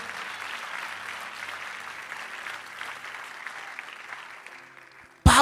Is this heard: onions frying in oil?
no